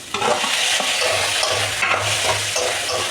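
Chicken pieces frying in a pan, a steady loud sizzle running throughout with faint stirring and scraping underneath, no voices.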